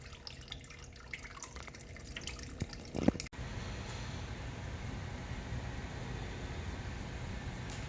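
Coolant draining out of the radiator of a 1959 Case 800 tractor in a workshop, a steady trickling and dripping of water that runs on continuously, with a brief clunk partway through.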